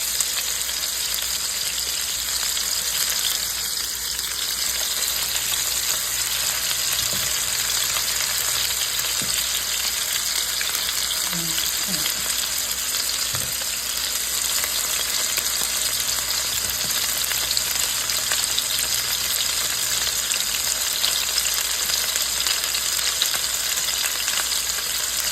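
Homemade Salisbury steak patties fry in a pan, giving a constant dense sizzle with a faint hiss throughout, steady and close, with a few soft utensil knocks and no talking.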